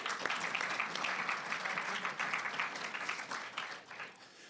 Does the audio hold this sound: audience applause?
yes